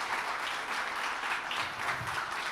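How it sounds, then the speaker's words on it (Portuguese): An audience applauds after a tech talk about PHP's Zend Engine, a dense, steady patter of many hands clapping at moderate volume throughout, with no voices over it. "Salva de palmas, pessoal,"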